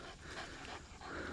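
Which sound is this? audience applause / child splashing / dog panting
dog panting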